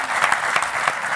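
Audience applause for a politician at a comedy show, a steady dense clapping from a crowd, loud and close, without talk.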